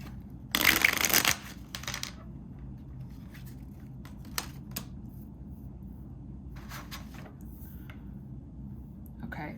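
Tarot cards being shuffled in one loud, dense riffle burst near the start, followed by a few faint card taps and shuffles over a low room hum.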